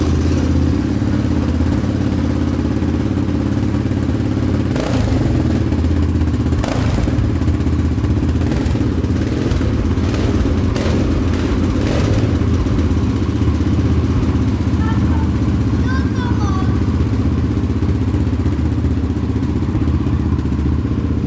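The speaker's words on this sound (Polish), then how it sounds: "Przygazujesz, a ja nagram, jak to chodzi, wydech, dobra?" A Yamaha Raptor quad bike engine idles with a rough, throaty exhaust rumble, close and loud, with a few knocks and clatters and brief revs.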